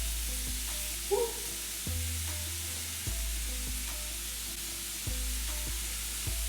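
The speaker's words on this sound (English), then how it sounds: "Bacon is literally straight fat, so it'll create its own oil as it cooks." Steady frying crackle of bacon hisses throughout, with a few soft scrapes and clinks of a utensil moving it in the pan; no voices.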